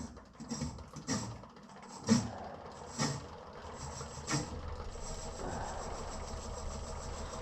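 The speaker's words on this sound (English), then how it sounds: "Mask on, face shield on, lathe on, running 100. We'll crank her up here, see if we can get to about 300." A wood lathe turns a wobbly maple blank at low speed with a quiet, steady motor hum, broken by several soft knocks in the first few seconds.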